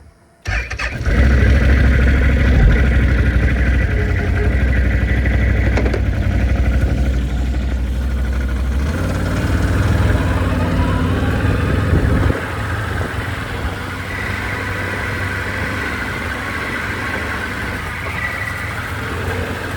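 A Can-Am off-road vehicle's engine cranks and fires, then runs steadily close by with a loud, even drone that drops to a quieter idle partway through.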